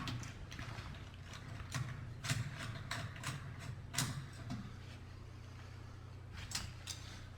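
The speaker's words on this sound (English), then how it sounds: "You want to remove the console, take the 4 Phillips screws off." A screwdriver backs four Phillips screws out of a StairMaster StepMill console, giving faint, irregular clicks and ratcheting ticks close by against a quiet background.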